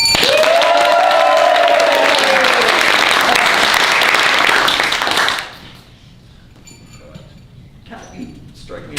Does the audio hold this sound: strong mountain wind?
no